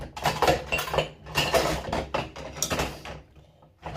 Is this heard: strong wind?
no